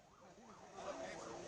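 Faint wailing ambulance siren outside hospitals after a plane crash in Ahmedabad, its pitch rising and falling in steady cycles over a short stretch under low background noise.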